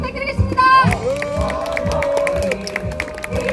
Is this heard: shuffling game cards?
no